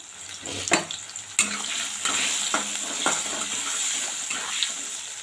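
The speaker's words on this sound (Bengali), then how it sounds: "একটুখানি ভাজা ভাজা করব।" Potatoes frying in oil with salt and turmeric are stirred in the pan, giving a continuous sizzle broken by scraping and clattering strokes at irregular intervals, close and moderately loud.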